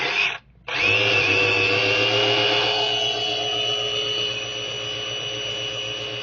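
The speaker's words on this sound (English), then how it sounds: "Let's put her on the dyno and see how she does." Tyco A-Team van slot car with tinted windshield, chrome pieces and red hubs running on a dyno, giving a loud, steady electric motor whine that cuts out for a split second near the start, then holds a constant pitch.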